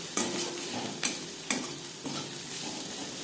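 Onions fry in a pan for a fish curry, giving a steady sizzle broken by several sharp scrapes and knocks of a spatula stirring against the pan, with no voices.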